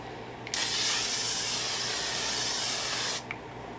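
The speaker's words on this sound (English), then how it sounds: "we're gonna set our face with the Infallible L'Oreal spray" A single steady spray of L'Oréal Infallible makeup setting spray onto a face hisses for about three seconds, close and loud, starting and stopping abruptly.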